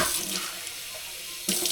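Water streams steadily from a tap into a sink, close and continuous, briefly quieter in the middle before surging again.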